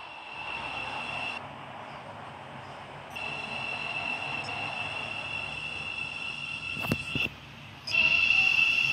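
A train pulling into a station in the Roblox game Stepford County Railway, with a steady rolling hum, sustained high electronic whine and a few sharp clicks near the end.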